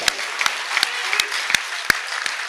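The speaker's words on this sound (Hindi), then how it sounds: "एक बार समवेत तालियां आपकी चाहिए। जोरदार" At a Hindi poetry gathering, the audience claps in unison, with sharp collective beats landing at a steady, fairly quick rhythm amid lighter scattered clapping and a low crowd murmur.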